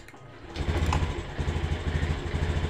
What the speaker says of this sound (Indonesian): Untuk mesinnya sudah hidup ya.